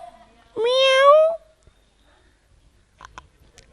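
A human voice imitates a cat's meow, giving one drawn-out, rising and falling mew up close in a children's street play, followed by a few faint clicks.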